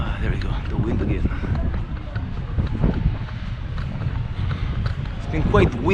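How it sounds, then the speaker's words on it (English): Wind gusting outdoors in a town, heard as a constant loud buffeting rumble on the microphone, with scattered knocks and clatters mixed in. "There we go, the wind again."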